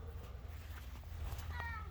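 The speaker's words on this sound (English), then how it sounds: "There's other cats." A cat meows briefly amid a low background hum, the call rising and wavering near the end of the short stretch, moderately close and fairly faint.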